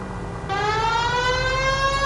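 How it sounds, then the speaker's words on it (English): Police car siren in the L.A. Noire video game starts abruptly and wails loud and steady with rising harmonic tones, over a low engine rumble, with no talking. "If you're gonna drive like this, at least use the siren."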